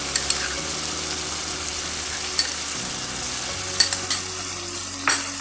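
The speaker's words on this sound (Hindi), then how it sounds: "हमारा मसाला तकरीबन भुन गया है" Masala with ginger paste fries in a pan and is stirred, a steady loud sizzle with occasional scraping clinks of the spoon against the pan, close and with no talk.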